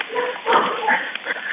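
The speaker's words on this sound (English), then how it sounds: "You can hear the dogs barking." Dogs bark in the background of a recorded emergency phone call, the yips and barks thin and band-limited like telephone audio, rising in a cluster midway and recurring, with no clear speech over them.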